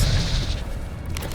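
Expelliarmus disarming spell cast in Hogwarts Legacy, a short, punchy booming burst with a fading rumble, alone without any talking.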